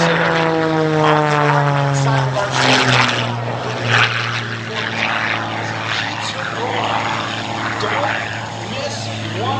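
Aerobatic propeller plane with a 380 horsepower engine at an air show, its loud droning engine tone sliding down in pitch as it passes, with an announcer talking over it.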